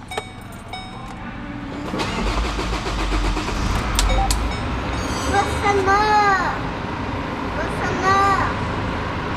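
A Chevrolet S10 engine cranks with the clutch pressed, catches, and settles into a steady idle close by while people talk over it.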